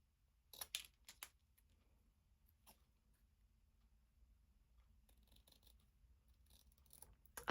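Scissors snip through a card in a crafting session: a few sharp, close cuts early on, then quiet handling noise and a second cluster of small snips and rustles near the end.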